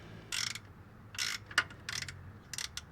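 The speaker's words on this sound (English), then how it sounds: "put my ratchet wrench on there and crank her down" Ratchet wrench cranking down a bolt during an oil change on a 1955 Ford Crown Victoria, several short close clicking bursts in an uneven rhythm with brief pauses between strokes.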